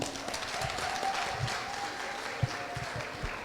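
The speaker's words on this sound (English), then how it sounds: "Give them a clap, please." Audience applause at a professional day keynote in Jamaica, a fairly quiet, diffuse patter of clapping that holds steady throughout with a couple of sharper individual claps standing out.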